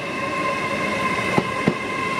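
An LNER Class 800 Azuma train at Peterborough station, heard as a steady rumbling hum with electric whine, and two short metallic clunks near the end as wheels pass over rail joints.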